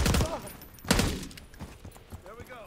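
Gunfire in the Call of Duty Black Ops 6 video game: a burst of shots with a loud crack near the start and another around one second, with smaller thumps after and a voice speaking over it.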